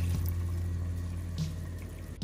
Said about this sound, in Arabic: بنزيد عليهم مية الباستا.